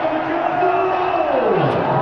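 A stadium crowd roars and cheers in a steady, dense wash of noise after a Lahore Qalandars super over win against Karachi Kings in a PSL cricket match, with a commentator's voice over it.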